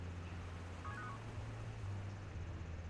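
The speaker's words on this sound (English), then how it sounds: "Oh, it's his phone." A short electronic phone notification chime in Telltale's Batman game, a brief two-tone blip heard faintly over a steady low hum, with no talking.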